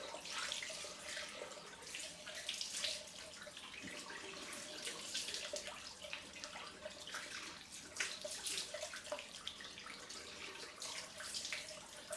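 Tap water runs steadily into a sink while a shaving bowl is rinsed after a head shave, a continuous soft splashing hiss with faint clinks, quiet and close.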